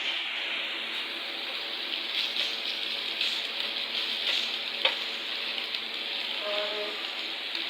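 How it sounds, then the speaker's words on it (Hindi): Chicken fries in a pan with a pepper and paste mixture, giving a steady, even sizzle that holds throughout, with a few faint clicks and a soft scrape late on. "तो इसके साथ करते हैं फ्राई।"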